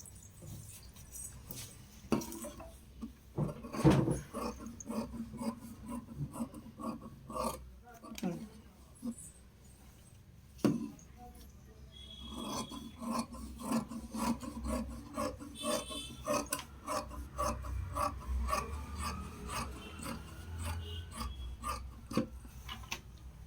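Scissors snip through kameez fabric on a tailoring table, a series of close crisp cuts and rustles of cloth, with someone talking over parts of it.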